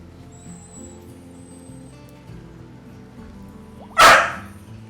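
A puppy barks at a cat indoors, one loud sharp bark bursting out near the end after quiet shuffling and faint background sounds.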